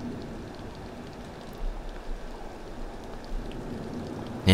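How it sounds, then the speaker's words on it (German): Running water trickles in Prey, a soft continuous wash like light rain or a stream, faint and steady with a few small splashes and no voices. "Ich stand hier und habe das Wasser gehört"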